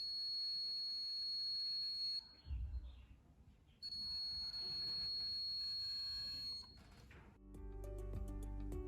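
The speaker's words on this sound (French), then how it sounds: "Quand le signal est au maximum, l'appareil déclenche une alerte continue." A K68+ detector sounds a continuous high-pitched electronic alert tone at maximum signal, steady and piercing, breaking off briefly once before carrying on.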